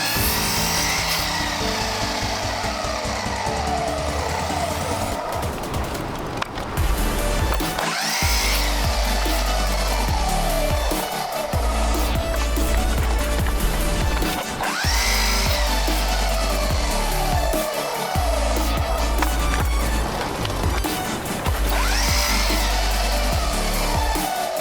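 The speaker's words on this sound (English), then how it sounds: "I'm cutting the wood boards for the accent wall." A power saw cuts wood boards for a DIY accent wall in a home gym, with repeated loud whining cuts that rise and fall across several passes, close by, with clunks between cuts and no talking.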